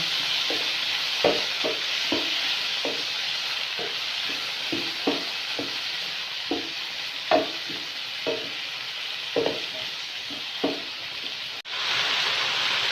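Potatoes frying in hot oil give a steady, soft sizzle, broken by repeated scraping stirs of a utensil in the pan every second or so, with a brief clatter near the end.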